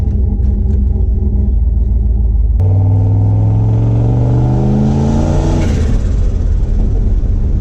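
A turbocharged LS engine in a C10 truck, boosted to 12 psi, idles with a heavy rumble. It then revs hard in one long climbing pull, holds high and drops back. The sound is loud, close and steady.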